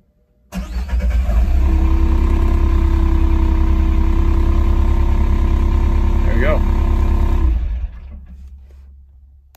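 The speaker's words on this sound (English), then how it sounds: "If you want to restart the engine at that point, just simply press auto again." Alltrack AT-20HD unit's engine restarts and runs with a steady, loud mechanical drone, holding for several seconds before cutting off abruptly, leaving a brief fading tail.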